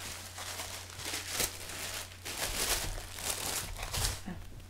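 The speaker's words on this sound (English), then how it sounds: "Again, it comes in this tissue paper." Tissue paper crinkling and rustling in bursts while a jewelry subscription package is unwrapped, close and fairly soft over a low steady hum.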